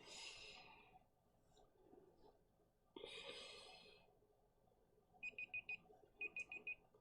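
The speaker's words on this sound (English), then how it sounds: "And that's my alarm. Means my tea is steeped." A phone alarm set as a tea steeping timer goes off near the end, short repeated beeps in two quick bursts after quieter breathy rustles.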